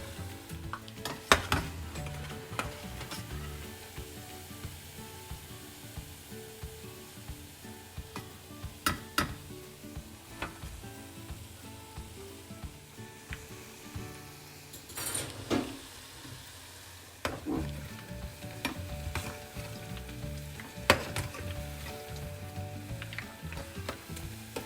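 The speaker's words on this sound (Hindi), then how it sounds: "पकौड़ों को हमें लाइट ब्राउन कलर आने तक पकाना है" Methi pakoras frying in hot oil with a steady low sizzle, occasional clinks of a utensil stirring in the pan and louder crackles, close and moderate in volume, no talking.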